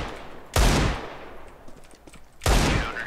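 Two sharp, loud gunfire bursts from CS:GO, one near the start and one near the end. Quieter game noise fills the gap between them, and no one speaks.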